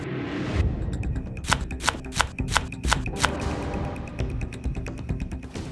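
Strawberries being chopped with a knife on a cutting board for strawberry sauce, a quick run of sharp, regular close-up knocks that speeds up in the middle, then gives way to softer scraping.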